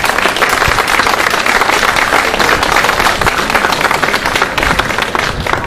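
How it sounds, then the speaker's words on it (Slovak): A crowd gives loud, sustained applause at a presentation of the Slovak student Eco Marathon team and their prototype, dense steady clapping lasting several seconds with no voices on top. "Ak dovolíte, ešte jeden potlesk si zaslúžia,"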